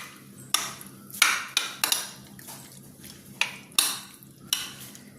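Masala-marinated chicken is mixed into egg in a bowl, with several sharp clinks and scrapes of a spoon against the dish at an irregular pace, close and fairly quiet.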